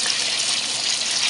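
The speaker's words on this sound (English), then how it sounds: "I'm going to get some water running in that bowl" Water gushes steadily from a tap into a bowl, a bright continuous splashing hiss, close and moderately loud.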